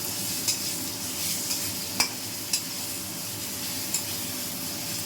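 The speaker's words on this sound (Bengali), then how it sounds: "এবার নুনটা দিয়ে আবার একটু ভাজা ভাজা করে দেবো" Onions with salt frying in a pan for an egg rezala, a steady soft sizzle with a few sharp stirring clicks of a utensil against the pan, close and continuous.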